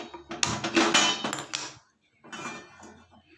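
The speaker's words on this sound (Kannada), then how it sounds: "ನಾನು ಸ್ಟವ್ ಮೇಲೆ ಒಂದು ಬಾಣಲಿ ಇಟ್ಕೊಂಡು ಇವಾಗ ಸ್ಟವ್ ಆನ್ ಮಾಡ್ಕೋತಾ ಇದ್ದೀನಿ." A metal frying pan is set down on a kitchen stove while cooking kalasu rotti, with a burst of clanking and scraping followed by a brief pause and a second, quieter round of metallic clatter.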